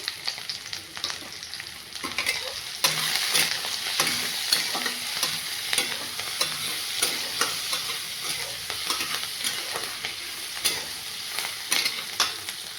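Green chillies, turmeric and salt fry and sizzle steadily in a pan, with a continuous close hiss broken by frequent scraping stirs of a spatula throughout.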